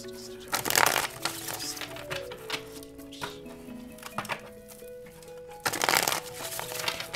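Tarot cards being shuffled, with two dense bursts of riffling and crackling that stand out over a sustained tonal music bed, no talking.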